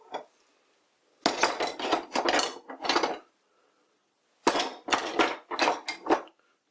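Old chisels made from files being handled out of a box, two clusters of hard metallic clinks and clattering as the steel pieces knock together, separated by a short pause.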